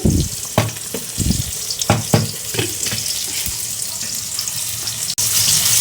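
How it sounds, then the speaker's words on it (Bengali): Vegetable khichuri is stirred and mixed in a pot, making close, uneven scraping and sloshing strokes over a constant frying hiss; the stirring thins out, then a brief knock is followed by a louder steady hiss. "আমি আবার একটু নেড়ে চেড়ে মিশিয়ে দেবো"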